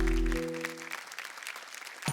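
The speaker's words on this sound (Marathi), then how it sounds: "एकदा जोरदार टाळ्या होऊन जाऊ देत." Applause from a TV show studio audience, a short burst of clapping that starts at once and fades out over about two seconds, with a faint voice at the very end.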